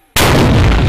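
A single U.S. Army infantry mortar fires during a live-fire exercise, a sudden, very loud, close blast that follows a brief quiet moment and fills the rest of the clip.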